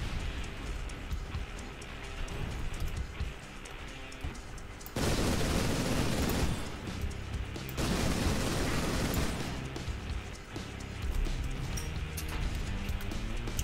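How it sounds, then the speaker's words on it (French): Bursts of rapid gunfire in a Warhammer video game, heard with a StormBolter, roar in two heavy sustained volleys with rumbling between them, like a fusillade amid battle noise. "Je sais pas qui tire, mais."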